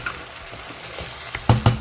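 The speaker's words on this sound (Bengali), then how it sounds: "পেঁয়াজ রসুন আর আদাটা একটু এই আলু আর মাছের সাথে একটু ভাজা ভাজা হয়ে নিই" Potatoes and fish fry with onion, garlic and ginger in a pan, a close, steady sizzle with stirring, ending in three sharp knocks of a utensil against the pan.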